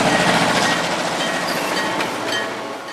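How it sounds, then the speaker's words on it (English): A freight train passing outside a bedroom window, a steady loud rumble with broadband rail noise holding throughout and easing slightly toward the end. "awakened in the wee hours one morning by the sound of a passing freight train outside his bedroom window"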